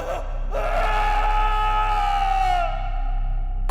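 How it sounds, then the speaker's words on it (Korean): A desperate, drawn-out scream rings through a house in a horror radio drama, one loud sustained wail lasting a few seconds with a reverberant, echoing tail. "처절한 비명이 온 집안에 울려 퍼졌다"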